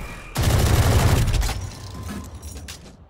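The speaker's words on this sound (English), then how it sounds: "Odin's a stupid weapon" The Odin machine gun in the video game Valorant fires a dense, loud sustained burst of rapid shots up close, tapering into scattered quieter firing and game sounds, with no talk over it.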